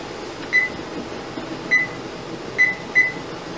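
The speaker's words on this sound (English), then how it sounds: "So our timer just went off." Four short electronic beeps from a kitchen timer at uneven intervals over a quiet background hum, clear and close.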